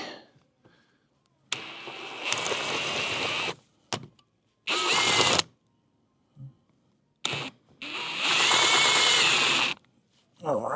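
Power screwdriver driving screws into wooden parts while assembling a playground, several separate bursts of whirring motor with short pauses between them, close and loud.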